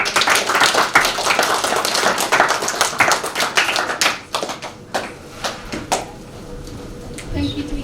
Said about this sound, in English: One big clap for all of them.